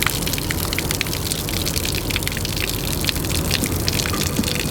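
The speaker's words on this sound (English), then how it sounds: "Oh, I hear water." Water runs and splashes steadily into an RV's tank, a dense, close hiss with small crackling drips and no talk over it.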